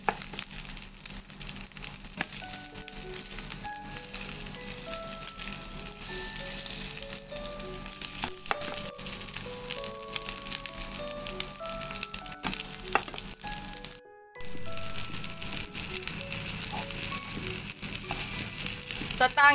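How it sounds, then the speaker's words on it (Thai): Korean-style egg fried rice is stir-fried slowly in a pan over low heat. A soft, fairly faint sizzle and gentle scraping sit under background music, with a brief dropout partway through. "เราต้องค่อยๆผัดเลยนะคะผัดไปเรื่อยๆค่ะไฟอ่อนๆนะคะ"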